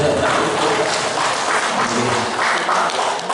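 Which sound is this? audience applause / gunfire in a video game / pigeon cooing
audience applause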